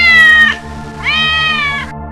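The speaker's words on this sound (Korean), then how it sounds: "서럽게 우는 고양이의 소리가 들려서" A cat meows mournfully twice, loud and close, each cry a long drawn-out wail with a short pause between, and no other sound.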